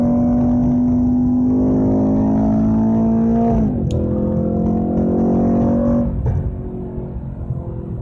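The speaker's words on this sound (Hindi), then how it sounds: "तो ये मैं डाउन शिफ्ट कर रहा हूं जो आप आवाज सुन रहे हैं।" A Mercedes E63 AMG on a Formula One circuit, its engine droning steadily inside the cabin, then dropping in pitch with a downshift blip around four seconds and another shift near six seconds.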